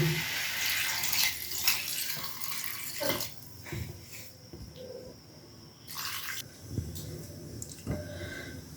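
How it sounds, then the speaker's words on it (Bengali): A little water is poured into a chicken stew cooking with coconut milk, making a close splashing pour that stops and starts. Brief clinks of utensils come between the pours. "দিয়ে দিচ্ছি অল্প জল।"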